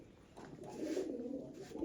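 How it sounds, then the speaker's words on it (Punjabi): Domestic pigeons coo softly and steadily, a low murmuring call that swells through the middle and repeats near the end, fairly close by with no talk over it. "ਕਬੂਤਰੀ ਹੈ ਕਬੂਤਰ ਹੈ ਕਬੂਤਰ ਆ ਬਈ"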